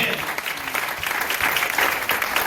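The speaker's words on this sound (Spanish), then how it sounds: "Un aplauso al Señor." A church congregation applauds during a Spanish-language sermon, dense steady clapping that fills the room for a few seconds.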